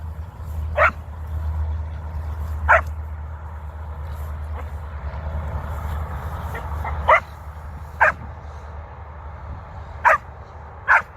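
A German Shepherd puppy gives short, separate barks and yips for a treat, about six of them spread unevenly over a low, steady background rumble.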